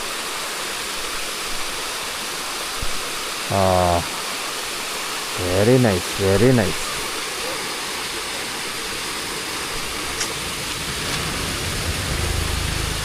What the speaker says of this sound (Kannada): ಜಲಪಾತ ಹೀಗಿದೆ